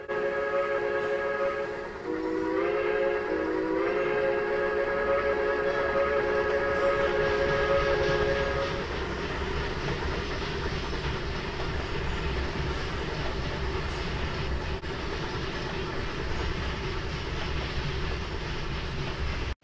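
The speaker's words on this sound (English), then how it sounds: "Right after the commuter leaves, a mundane coal drag hauls through." A coal freight train hauls past loud and close with a steady rumble and clatter of wagons, while a multi-tone horn sounds near the start and fades after several seconds.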